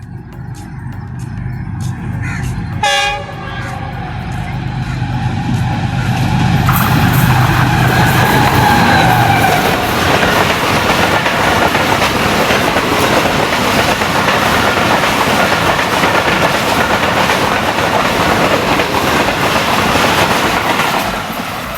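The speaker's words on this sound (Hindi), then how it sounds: "ढाई घंटे लेट रनिंग के साथ ये थी पासिंग थी 41 अप कराकोरम एक्सप्रेस" The 41 Up Karakoram Express, running late, roars through Abdul Hakim station with a loud horn blast and then a long, steady rumble and clatter of passing coaches close by.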